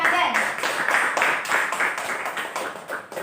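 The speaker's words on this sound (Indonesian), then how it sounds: "Tepuk tangan untuk Rizky Ramadan." A classroom audience claps for Rizky Ramadan, a rhythmic patter of hands in quick steady beats, fairly close and lasting a few seconds with little else over it.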